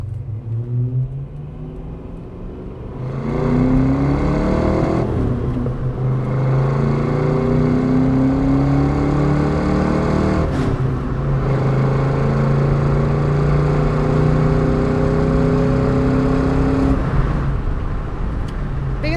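A 1994 Ford Mustang GT convertible with the 5.0 V8 and five-speed manual pulls hard on a test drive, its engine note rising through the gears with brief dips at each shift, loud and close.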